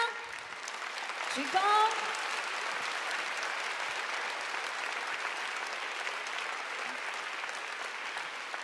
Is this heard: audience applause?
yes